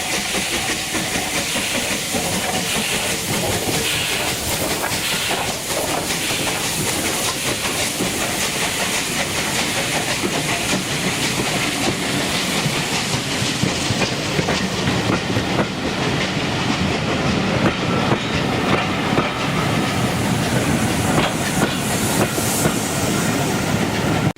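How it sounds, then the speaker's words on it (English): A steam train rumbles northward past a railway landslip site continuously, with hissing and rhythmic clattering wheels, loud and close for the whole stretch. "let's just take a look at our wonderful steam engine passing northward over the slip"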